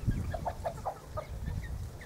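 A rooster gives a quick series of soft, low clucks, close by and alone, with a faint higher call trailing off.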